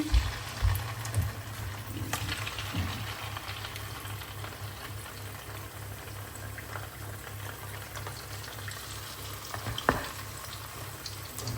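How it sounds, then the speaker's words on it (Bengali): Chicken frying in a pan, a continuous bubbling sizzle with a low rhythmic hum underneath, a few sharp knocks near the start and one more later, heard up close with no talking. "এখানে আমি চিকেনটাও ভেজে ফেলতেছি"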